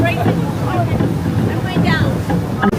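Cruise boat sailing down Loch Ness near Urquhart Castle, Inverness, Scotland, with a steady low engine drone and wind and water wash filling the background throughout.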